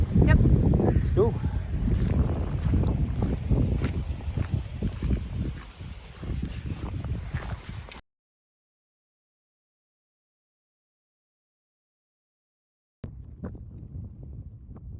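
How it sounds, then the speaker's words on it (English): Strong gusts of wind batter the microphone on an exposed mountain ascent toward Beinn Ime, a loud roaring buffet that cuts out midway and returns briefly near the end. "it's very windy"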